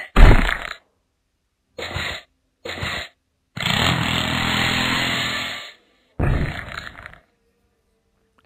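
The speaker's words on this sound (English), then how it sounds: "I want to see what this drill is." A drill in the Stickman Prison Escape video game sounds as harsh buzzing, grinding bursts: several short stuttering pulses, then one sustained whirring run of about two seconds and a final short burst, with silence between them.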